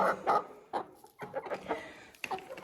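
A chicken, likely a rooster kept apart in a pen, gives a short run of close, clear clucks in uneven bursts.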